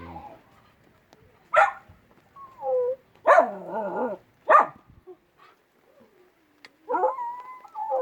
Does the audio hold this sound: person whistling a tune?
no